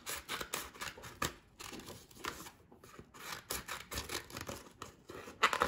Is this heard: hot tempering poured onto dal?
no